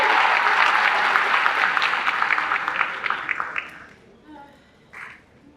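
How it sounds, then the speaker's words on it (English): A graduation ceremony crowd applauds loudly and steadily, then the clapping thins out and fades to scattered claps and faint voices. "another round of applause for doing all of that by memory"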